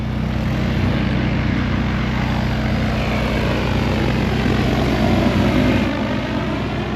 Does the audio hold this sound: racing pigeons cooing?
no